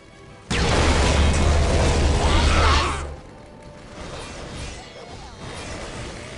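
Heavy fire explosions in Warhammer 40000: Dawn of War crash in abruptly as a loud, broad blast that roars for a few seconds before dropping away to quieter rumbling and scattered battle noise.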